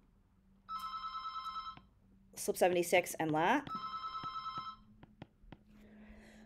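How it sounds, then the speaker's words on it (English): A telephone rings twice in trilling bursts during an immunology lecture on T cell activation, fairly clear, with the lecturer speaking between and after the rings. "I have no idea why I'm getting a phone call"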